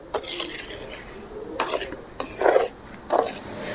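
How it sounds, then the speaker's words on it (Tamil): Melting sugar for banana halwa is stirred in a pan with a metal spoon, giving four distinct bursts of scraping and clanking against a soft background sizzle. "நம்ம அதை கையை விடாமல் கிண்டிகிட்டு இருக்கோம்."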